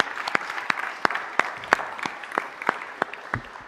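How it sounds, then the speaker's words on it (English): A city council chamber audience applauds the Los Angeles Fire and Police Association, with sparse individual claps standing out sharply and rhythmically over a softer background of clapping, moderately loud and with no voices. "can we everyone join me in giving another round of applause to the Los Angeles Fire and Police Association"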